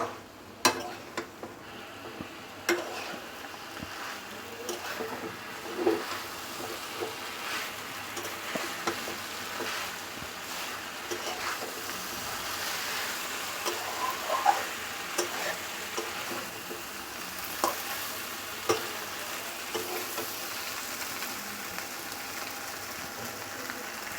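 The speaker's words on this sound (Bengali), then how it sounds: "এখন আমি ভাজা সবজিগুলো এর মধ্যে দিয়ে দিচ্ছি আর এটাকে আমি ভালোভাবে একটু নেড়ে চেড়ে মিশিয়ে নেব" Steady frying sizzle with intermittent scraping and clinks of a spoon stirring fried pumpkin stems and potatoes into spice paste in a pan, a continuous hiss throughout with occasional louder knocks.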